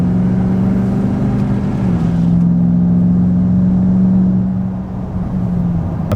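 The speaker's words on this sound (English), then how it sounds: "This is no muffler. This is not in sport mode." A Porsche Cayenne Turbo with its muffler deleted and not in sport mode drones steadily from the engine and exhaust while driving. The low, loud tone rises briefly and then eases off near the end.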